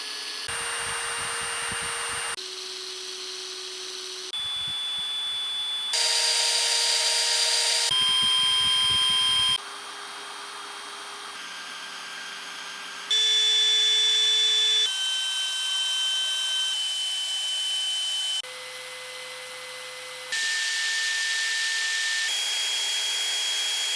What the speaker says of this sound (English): we'll take a listen here to the sound off of each drill under no load